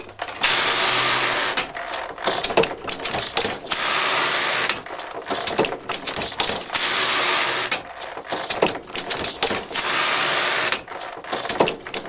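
An early hand-operated knitting machine clatters with ratcheting, gear-like mechanical rattles in repeated bursts, alternating with louder hissing sweeps, close and loud with no voices.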